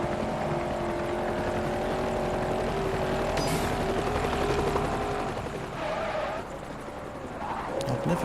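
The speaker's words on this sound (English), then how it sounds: "Helicopter's very quick at these direction changes." A helicopter in the Forza Horizon racing game hums steadily with a droning rotor and engine tone, holding a continuous loud whir with slight pitch shifts as it changes direction.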